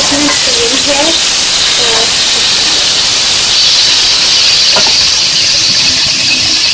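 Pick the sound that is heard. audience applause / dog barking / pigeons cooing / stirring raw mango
stirring raw mango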